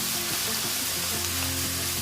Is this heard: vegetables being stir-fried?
yes